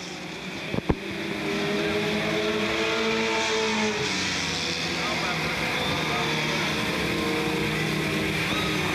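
Modified 4 race car number 88 on the Smoky Mountain Raceway track sweeps past with a loud, sustained engine roar that rises and holds, other cars droning along, while an announcer talks over it.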